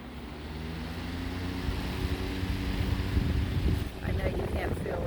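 Steady whirring of an antique Diehl three-speed electric fan running on high, a constant windy hum with a faint motor drone, ending with some rustling handling noise.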